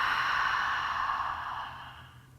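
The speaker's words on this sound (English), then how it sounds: "take a 2-part inhale. So it sounds like breathing in 2 parts on the inhale. Inhale, inhale, full exhale." A single long, soft breath during a guided meditation, drawn out steadily and fading gradually toward the end, heard alone and close with no talking.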